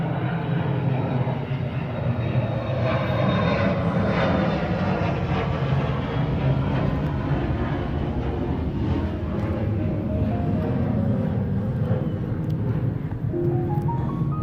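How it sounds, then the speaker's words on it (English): A steady, broad engine roar of an airplane passing overhead, constant and moderately loud for the whole stretch, with no talking. "There's another aeroplane."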